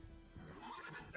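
Roach, a horse in the Witcher 3 game, gives a short faint neigh, brief and alone over soft background game sound.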